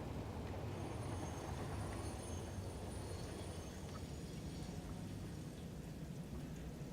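Steady low rumble of a train rolling along its track in the factory-building game Satisfactory, a continuous moderately loud drone that holds evenly throughout with no talking over it.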